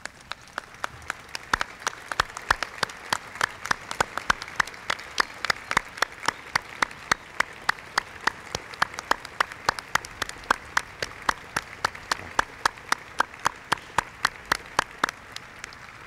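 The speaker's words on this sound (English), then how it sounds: "let's give them a big round of applause" Steady applause from a large crowd at a Presidential Scholars Awards ceremony, many hands clapping continuously and fairly loud for the whole stretch.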